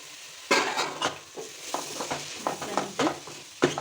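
Four medium sliced tomatoes drop into a hot pan for fish biryani, giving a steady oily sizzle with repeated scraping and stirring strokes of a spoon against the pan in an irregular rhythm, close and moderately loud, with no talking.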